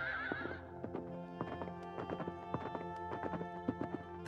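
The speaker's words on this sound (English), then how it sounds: "there is now a herd of white horses galloping down to the party" A herd of white horses gallops past; a whinny opens the passage, then a run of near, uneven hoofbeat clops continues to the end, with no talking.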